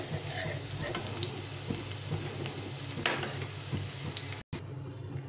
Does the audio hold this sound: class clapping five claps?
no